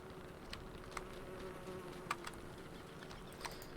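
Killer bees buzzing in the Don't Starve video game, a continuous droning insect hum with a few brief clicks and ticks scattered over it, steady and moderately faint.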